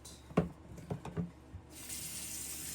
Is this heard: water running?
yes